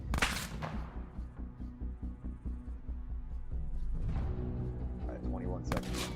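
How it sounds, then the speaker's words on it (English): Rapid bursts of video game gunfire, sharp repeated shots in quick clusters, with a steady low hum underneath. "Those gunshots are flying pretty close to us."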